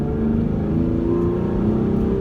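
A 2015 Hyundai Genesis Coupe 3.8 in sport mode revs with a close, steady engine roar, slight pitch wavering over a continuous low growl, with no voices.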